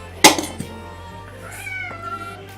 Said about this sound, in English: Or if my cat didn't yell.